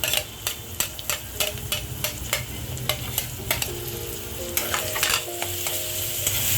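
Onion, ginger-garlic paste and tomato fry for spicy misal with a dense, steady sizzle, while a spatula scrapes and taps the pan in a quick rhythmic run of strokes.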